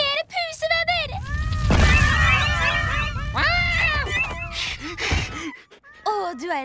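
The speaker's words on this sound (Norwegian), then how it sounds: "Flere pusevenner!" Cartoon cats meow over and over in a lively overlapping chorus from a Teen Titans Go! episode dubbed in Norwegian, loud and close, with a voice talking among them.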